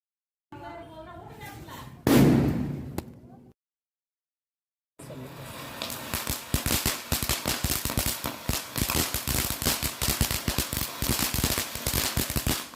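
A rapid string of low-priced gift-box firecrackers bursts in slow motion, a dense irregular volley of sharp pops and thuds that follows a short louder bang and a brief silence.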